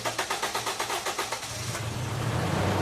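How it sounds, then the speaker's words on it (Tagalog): A Toyota Innova engine cranks with a rapid rhythmic starter whir, hard starting from a fuel filter problem, then catches and settles into a steady, rising idle rumble nearby. "tapos pa-start ko na itong makina."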